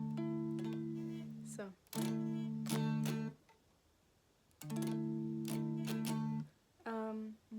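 Electric guitar chords strummed with the unused strings muted, in repeated down-strum pairs with short gaps between, close and clear with a brief spoken word.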